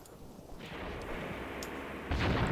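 Artillery guns firing in the war game Graviteam Tactics, heard as distant muffled booms over a steady rumbling background, with a louder, closer blast near the end.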